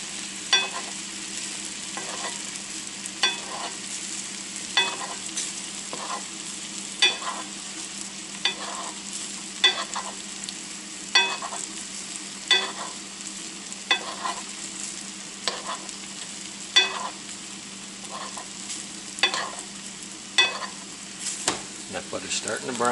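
Trout sizzling in browning butter in a pan, a continuous close sizzle punctuated by regular spoon taps and scrapes about once a second as butter is basted over the fish.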